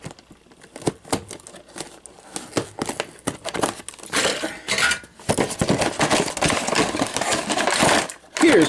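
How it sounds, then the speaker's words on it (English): Packing tape on a boxed Transformers Earthrise Deluxe Trailbreaker action figure gets cut and peeled, with irregular crinkling, tearing and scraping bursts that build into a dense, close rustle of plastic and cardboard packaging. "I am going to go ahead and cut the tape on this figure"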